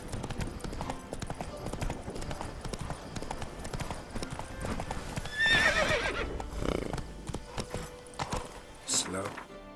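Roach, Geralt's horse in The Witcher 3, gallops with rapid, rhythmic hoofbeats that rise louder midway, and a brief whinny comes near the end.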